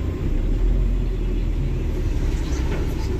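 A truck pulls away in first gear, producing a loud, steady low engine rumble that stays up close and continuous with no talk over it.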